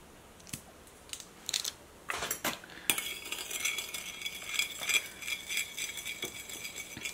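A mixture sweetened with a little honey is stirred in a bowl, beginning with a few soft knocks and then turning into a brisk run of clinking, scraping strokes of a utensil against the bowl, close by.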